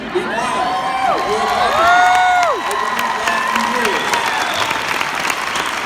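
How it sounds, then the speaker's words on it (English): A crowd at a nursing graduation applauds and cheers, with sustained clapping beneath rising and falling whoops and shouts that peak briefly before settling into continued cheering. "I thank you all for applauding for them"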